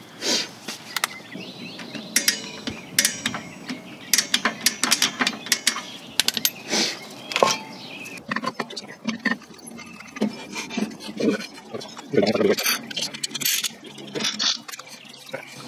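A Toyota Yaris rear brake drum is turned by hand after a brake shoe replacement and rubs slightly, making close, irregular scraping, clicking and grinding bursts that stop and start over several seconds, with no voices.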